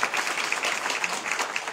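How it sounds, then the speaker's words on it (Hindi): Audience clapping at a public rally in Dewas, a dense, steady burst of applause from a sizable crowd, close and fairly loud throughout the brief moment. "इनके लिए तालियां बजाइए।"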